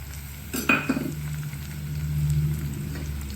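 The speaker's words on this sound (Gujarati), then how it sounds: "ધીમે ધીમે આપણે બધું શાક ઉમેરી દઈશું" Vegetables and garlic for veg pulao are stirred and fried in a pan, with a sharp metallic clank of a utensil early on over a steady sizzle and a low background hum.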